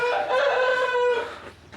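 A rooster crows once, nearby and loud, a drawn-out harmonic call that fades out at the end.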